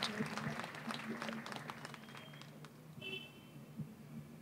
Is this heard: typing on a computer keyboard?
no